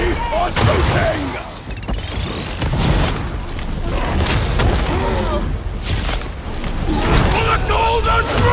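Gunfire and explosions from the Warhammer 40,000: Darktide video game burst in rapid volleys and booming blasts, mixed with shouted combat voices throughout.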